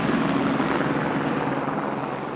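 A Utah Department of Public Safety helicopter climbs through cold winter air over the Salt Lake Valley, its rotor blades giving a steady, loud, dense thrum that stays even throughout with no voices.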